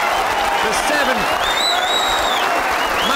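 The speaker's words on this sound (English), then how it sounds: "The Crucible crowd stand and applaud" Snooker crowd at the Crucible Theatre rising in a standing ovation after a maximum 147 break at the 2005 World Championship, dense continuous applause filling the hall loudly throughout, with a commentator talking over it.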